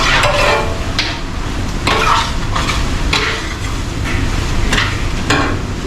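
Continuous sizzling of chicken frying in a pan, with repeated scraping and stirring sounds at a steady rhythm, close and fairly loud.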